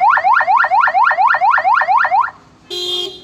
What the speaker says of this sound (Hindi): ये सुपर लाउड हॉर्न है, बहुत ही ज़बरदस्त